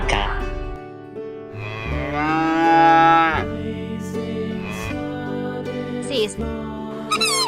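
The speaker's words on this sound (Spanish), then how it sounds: "Vaca." A domestic cow moos loudly and near, with a drawn-out bellowing call that swells at its peak and then trails into lower grunting tones. A few soft clicks follow, with no voices.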